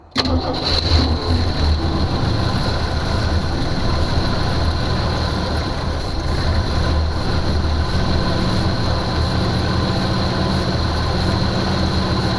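A Jeep Cherokee that has sat unused for years cranked with the key, a loud sustained engine roar running continuously close by, with no talk over it.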